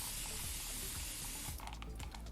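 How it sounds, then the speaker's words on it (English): A spray bottle mists water onto long curly hair while it is being styled, giving a close, steady hiss for about a second and a half before stopping. "And then I will spray this down to get a little bit more water."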